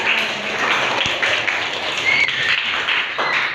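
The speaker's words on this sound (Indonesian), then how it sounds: "Tepuk tangan untuk kelompoknya." A classroom group gets a round of hand clapping from fellow students during a coaching session, a dense, steady patter of many hands close by for several seconds.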